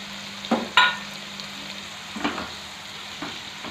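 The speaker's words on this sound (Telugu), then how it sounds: "ఇప్పుడు ఇందులో మనం నీట్గా కడిగి పెట్టుకున్న రొయ్యల్ని వేసేసుకుందామండి." Raw washed prawns fry with a pinch of turmeric in a pan for a prawn curry, a soft continuous sizzle broken by a few utensil clinks and stirring scrapes, with no speech.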